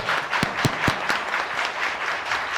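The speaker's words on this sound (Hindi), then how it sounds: "जोरदार तालियों से उनका उत्साह करें" Audience applauding the winner of a Ramayana recitation competition, steady dense clapping throughout with a few loud, close individual claps standing out near the start.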